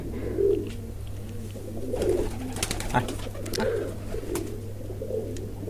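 Pigeons on a Bangladeshi pigeon farm cooing repeatedly in low soft rolls while gathering dry neem twigs for nests, with faint rustling and a steady low hum underneath.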